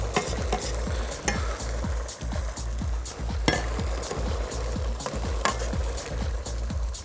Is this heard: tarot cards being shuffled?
no